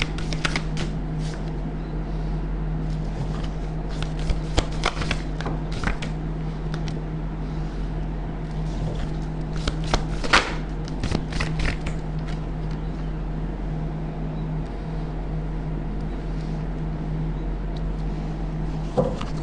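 A deck of tarot cards being shuffled close by, a steady run of soft riffling and flicking with occasional sharper snaps over a constant low hum, no talking.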